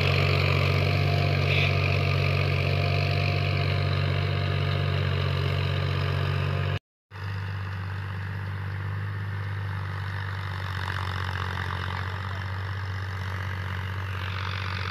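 A 2019 model tractor engine runs at a steady idle, loud and close with a constant low drone and rumble, broken by a brief moment of silence partway through.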